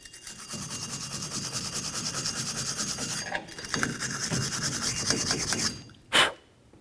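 Someone scrubs a Ford Ranger rear axle surface around the wheel studs with close, rapid, rasping back-and-forth strokes for several seconds, then a brief pause and one final sharp scrape.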